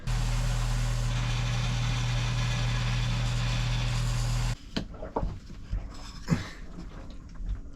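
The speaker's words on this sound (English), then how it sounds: "So I'll just do that on the stationary belt sander." A stationary belt sander roars steadily for several seconds while shaping a curved piece, then cuts off abruptly, leaving quiet room sounds with a few clicks and knocks.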